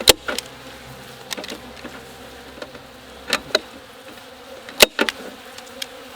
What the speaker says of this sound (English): there's such a ton of bees in here that are very, very not happy